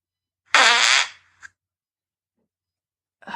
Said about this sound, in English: Let's do the last 2 farts.